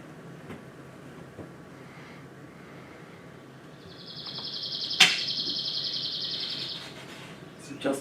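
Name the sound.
song of a northern bird, long uniform rattle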